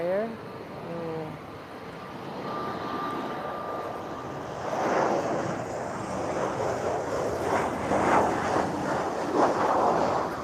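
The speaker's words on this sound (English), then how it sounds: "Otherwise, we have a landing. It does look like an express Embraer." An Embraer jet comes in to land at Lisbon Airport, its engine roar rising and swelling from a distance amid gusty wind, while someone talks over it.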